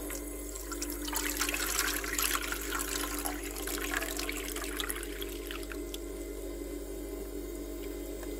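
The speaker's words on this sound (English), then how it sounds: "I'm going to put some water in here" Water pours and splashes steadily into an ice maker, then tapers to a trickle over a constant low electrical hum.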